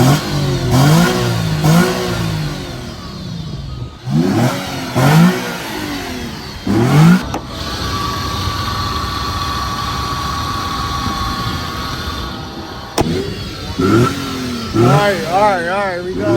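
Used car engine at a dealer-only auction, revved in several sharp rising bursts between stretches of rough idle, close by, with people talking over and between the revs.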